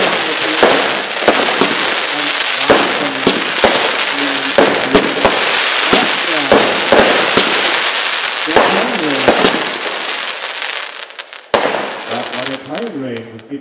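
A Time Rain fireworks shot at a product demonstration display fires a rapid series of loud booms and crackling bursts, dense and sustained, with a German commentator talking over them.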